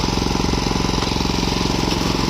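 Engine of a used Japanese walk-behind pesticide sprayer runs steadily up close, a loud, fast rhythmic chugging with even pulses throughout, no voices.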